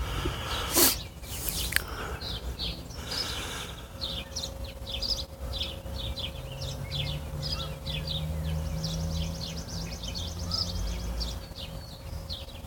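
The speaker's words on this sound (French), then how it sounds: "Entendez-vous les oiseaux? Ah oui, des belles outardes." Canada geese call repeatedly in the distance, a steady series of short honks over a noisy background hum, with a couple of louder knocks near the start.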